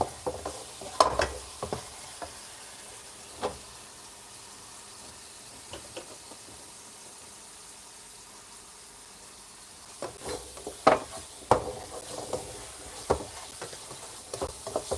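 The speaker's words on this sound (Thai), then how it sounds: "หมูผัด กระเทียมผัดพริกเผ็ดๆนะครับ" Pork stir-fried with garlic and hot chili, a continuous hiss of frying under intermittent clanks and scrapes of a spatula against the pan, busier toward the end, close and without speech.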